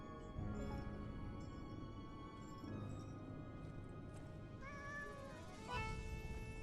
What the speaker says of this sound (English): Yeah, meow to you too, buddy.